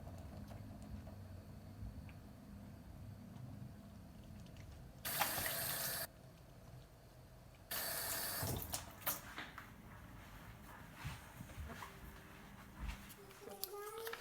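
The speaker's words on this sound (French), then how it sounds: "je me lave les mains" Tap water runs into a sink as hands are washed before baking a yogurt cake in a home kitchen, two short loud bursts of flowing water with brief pauses, a voice faintly in the background.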